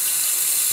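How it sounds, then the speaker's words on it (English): A bathroom sink faucet runs in a steady, close, hissing stream of water before tooth brushing, loud and unbroken with no voices. "first I turn on the water"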